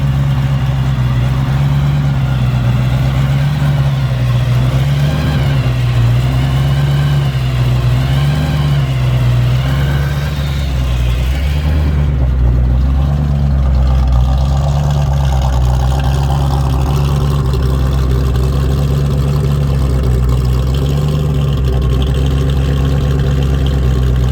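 1939 Ford five-window coupe with a 468 engine and 8-71 blower idling, a loud, close, lumpy rumble with a rhythmic lope and a brief blip of revs midway, steady and unaccompanied by talk.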